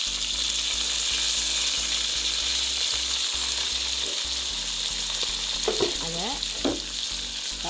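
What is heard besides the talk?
onions frying in a pan for banana flower fry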